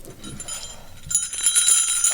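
A bell sound effect at the close of a church midweek announcements broadcast, a bright ringing chime that swells and sustains for about a second, loud and up front with faint background sound before it.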